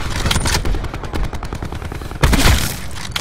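Rapid automatic gunfire in the Call of Duty Black Ops 4 Blackout video game: loud, dense bursts of shots crackling in quick succession, with a heavier volley near the end.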